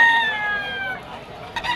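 A gamecock stag crows at a busy Malabon market, a single drawn-out call that tails off, followed by faint background bustle.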